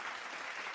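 Applause for a rapper from a small group, a steady continuous patter of clapping at moderate distance with no voices over it.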